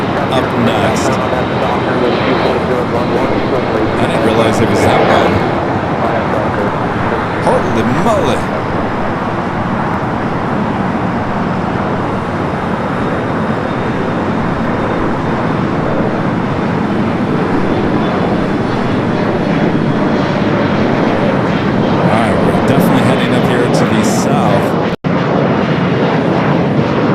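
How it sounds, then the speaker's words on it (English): A Boeing 787-10 Dreamliner in Stars and Stripes livery passing at LAX, a loud, sustained engine roar filling the whole stretch with a constant wash of noise and little change in level. "787-10 Dreamliner in the Stars and Stripes livery coming up from Newark"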